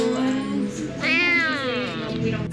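A street cat meows up close, a drawn-out rising and falling cry, loud and clear, with a strained, wailing edge.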